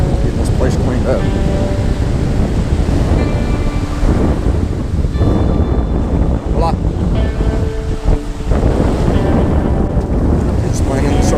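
Surf washing onto a resort beach at Playa Mujeres, a steady broadband rush of waves mixed with heavy wind buffeting the microphone, with faint voices nearby.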